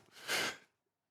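One short sneeze bursts out, a quick breathy explosion of moderate volume that cuts off abruptly into silence.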